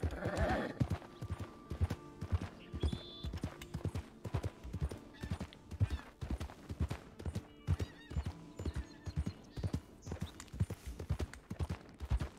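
Mustang horse hooves in Red Dead Online clip-clop in a steady, regular gait, close and fairly soft, with occasional whinny-like tones and light game ambience.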